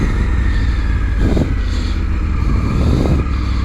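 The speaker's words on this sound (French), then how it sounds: "On a l'impression que le moteur, il veut s'arracher quoi." Triumph Tiger 900 motorcycle engine pulling hard under acceleration, a steady loud roar with rising pulls and close engine noise throughout.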